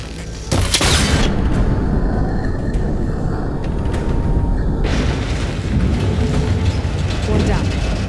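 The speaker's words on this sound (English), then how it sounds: "Connectors holding the cables together. It should break if I shoot it." A loud explosion erupts in a video game after cable connectors are shot. A sharp blast is followed by a sustained heavy rumble, and a second burst swells midway, with voice chatter mixed underneath.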